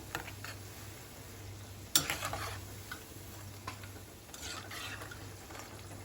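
Kuttu flour pakoras fry softly in oil in a kadhai and are turned over. One sharp clatter of the spoon stands out above a faint, steady bubbling hiss.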